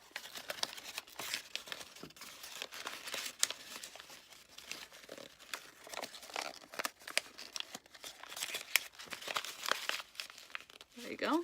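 Paper crinkles and rustles in quick, irregular bursts as it is folded and tucked down into an origami lily, with soft scrapes between the louder crackles.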